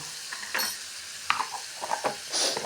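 Garlic and onion paste fries in a pan with cumin paste, a faint sizzle broken by several clicking, scraping stirs spaced unevenly through the moment.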